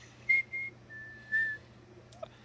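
Someone whistles an imitation of a black-capped chickadee's call, giving short clear high notes and a longer held tone against quiet indoor hum, with a small click near the end.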